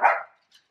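Dogs barking: one strong, close bark that rings out briefly, followed by a faint, short yip a moment later.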